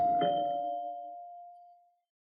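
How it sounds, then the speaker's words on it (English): A doorbell sound effect in an old radio detective drama, a single clear chime struck once that rings out and fades slowly over about two seconds, alone without talk. "I don't think that doorbell took the first time."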